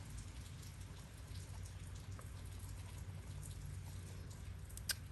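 Morning rain falls steadily outside, a soft continuous patter heard faintly from indoors with a low background hum and one brief tap near the end.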